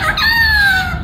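A talking parrot imitates a rooster crowing at a state fair bird show, one loud, close, drawn-out crow-like call lasting about a second.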